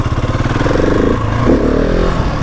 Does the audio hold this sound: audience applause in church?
no